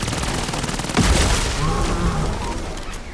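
Rapid gunfire from the Fireworks weapon in the Black Ops 7 beta shooter game rattles in dense bursts, with a heavier boom partway through and someone talking over the continuous in-game combat.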